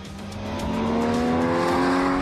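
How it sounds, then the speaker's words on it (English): Porsche Cayman GTS on the Circuit Mallorca racetrack, its engine note rising steadily as the car accelerates, growing louder and closer with a sustained, climbing tone. "The new Cayman GTS struts its stuff on the Circuit Mallorca"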